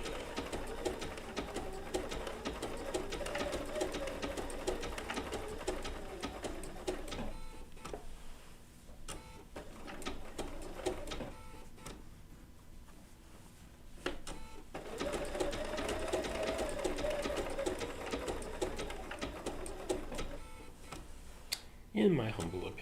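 A Bernina B790 PRO sewing machine stitches wool applique with an open toe foot, a fast continuous whirring buzz that stops briefly in the middle and then resumes, with someone talking quietly over part of it.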